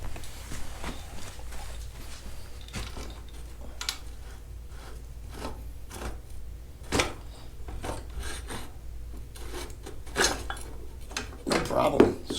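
Metallic clinks, scrapes and taps come from working the rear axle out of a Yamaha PW80 dirt bike, with irregular tool and part handling sounds up close.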